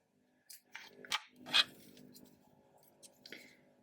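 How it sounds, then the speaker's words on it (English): Scissors snip through crochet yarn up close in a quiet room, a few soft crisp cuts and metallic blade clicks spaced over a couple of seconds. "now just cut your yarn"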